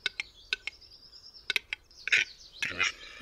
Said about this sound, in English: The birds fly up and down, exhibiting a coughing-like sound.